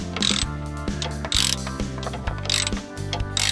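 A ratchet with a deep socket turns a starter bolt during a starter installation, making loud, close bursts of clicking in repeated strokes with short pauses between them. No one speaks.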